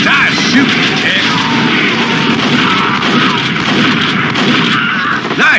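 Gunfire during a Team Fortress 2 match on the Hightower map, heard as dense, loud, continuous battle noise with overlapping shots and blasts filling the whole stretch, with no clear break.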